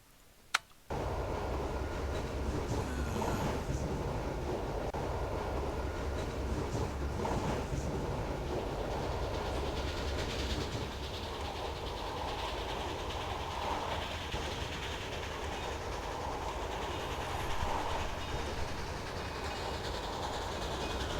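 Moving train in the video game The Last Express, starting with a brief click, then a steady loud rumble and rhythmic clatter of rolling carriages that continues without speech.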